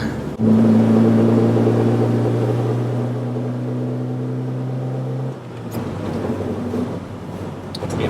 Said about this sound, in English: It's a Pinto. It'll rev until it blows up.